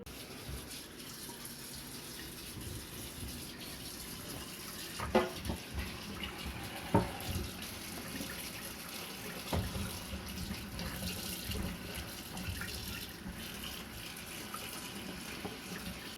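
Water runs steadily from a valve glued onto a water line and used as a hose, a constant outdoor rushing and splashing with a few louder spatters along the way.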